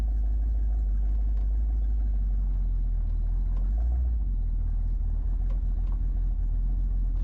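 A 1976 Ford Ranchero 500 V8 engine runs with a deep, steady low-pitched rumble close by, holding an even tone throughout with a slight swell in the middle.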